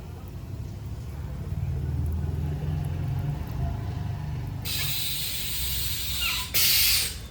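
Low-pressure water sprays over a dirty, greasy car engine bay. A steady hiss starts partway through and builds to a louder burst near the end, over a low background rumble.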